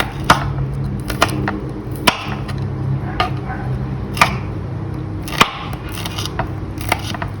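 Knife chopping small chili peppers on a cutting board: sharp taps at an irregular pace, about eight distinct strikes, close and clear over a low background hum.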